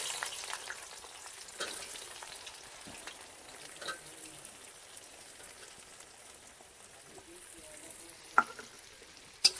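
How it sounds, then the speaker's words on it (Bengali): Oil sizzles and crackles steadily as raw onion fries in a wok, with a few sharper pops and stirring clatters near the end; no talking. "এই গরম তেলের মধ্যে আমি দিলাম কাঁচা পেঁয়াজ"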